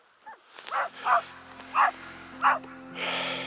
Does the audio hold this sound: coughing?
no